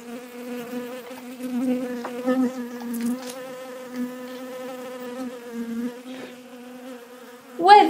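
A swarm of bees buzzes in a steady, layered drone, holding at moderate loudness with small swells throughout and a brief louder burst at the very end.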